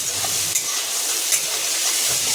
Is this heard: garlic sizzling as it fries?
yes